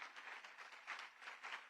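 An audience at the launch of a state education policy in Tamil Nadu gives a round of applause, with faint, continuous clapping from many people and no speech.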